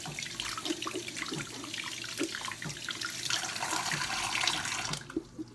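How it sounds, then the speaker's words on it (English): Lukewarm to hot tap water runs steadily into a sink while reborn doll parts are rinsed of excess paint, a close splashing flow broken by scrubbing and handling sounds. "So use lukewarm to hot water to remove the excess paint."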